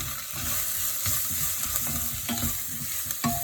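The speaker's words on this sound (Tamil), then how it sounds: "அதுக்குள்ள இந்த மஞ்சள் தூளையும் போட்டு இப்படி மிக்ஸ் பண்ணி வதக்கி வேணும், வதக்கி விட வேணும்." Turmeric and salt stirred and sautéed in a hot pan, a soft sizzle under repeated scraping strokes of the spoon, close and steady.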